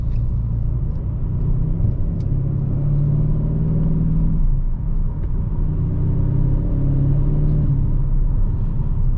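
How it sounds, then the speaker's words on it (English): 2025 Kia K5 GT accelerating with its turbo spooling up, a loud, steady engine rumble and road roar from inside the car, rising and holding with a brief dip midway. "Yes, lots of power. Once that turbo spools up,"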